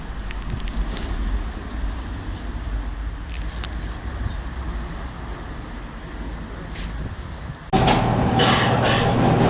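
The H6 HÉV suburban train on Budapest's 252 line rumbles past with a steady low roar and faint rail clatter, until a sudden louder, brighter burst of noise near the end.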